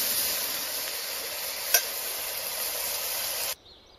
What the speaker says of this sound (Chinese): 用猪油炒的南瓜尖非常香